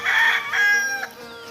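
A rooster on a small, clean mini farm crows loud and close, one full cock-a-doodle-doo with a rising, sustained middle note and a clipped ending, followed by quieter background farmyard sound.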